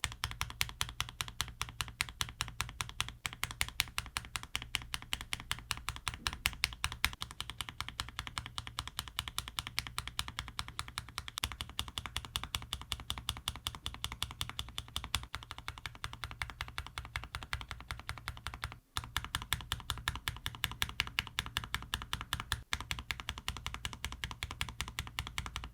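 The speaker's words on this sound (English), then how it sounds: "Let's have a quick listen to the sound comparison across the Terra Keycaps artisans and the artisans from the" Keys on a mechanical keyboard fitted with artisan keycaps clack in a fast, steady run of close, crisp strokes, with one brief pause near the end.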